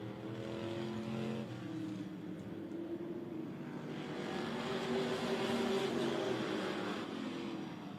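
Modified race cars roar around an oval track during a race, a steady loud engine drone that swells as the pack approaches and passes, continuous for the whole stretch.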